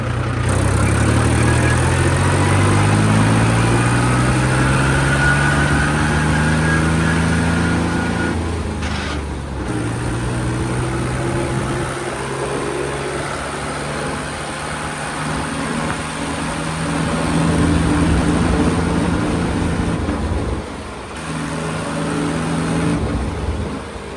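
A tractor engine, started again after three months idle, runs loud and close in a steady heavy diesel rumble, its pitch rising and settling with throttle changes over a long stretch.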